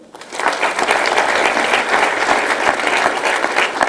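Sustained applause from an audience at a school board meeting honoring the Teachers of the Year winners, dense steady clapping filling the whole stretch at close range.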